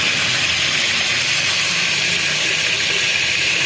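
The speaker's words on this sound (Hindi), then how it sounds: "तो देखिए गोश्त जो है ये भुन रहा है" Chicken karahi meat frying with spices in a pan, a loud, steady close sizzling hiss that runs unbroken throughout.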